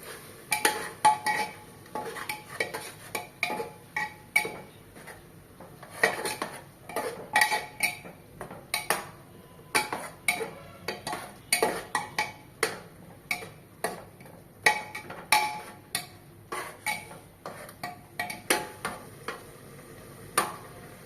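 Chicken with tomato and onion paste is stirred in a pot for a special chicken gravy, a spoon knocking and scraping the metal in irregular clinks and taps, close and fairly quiet against a faint background.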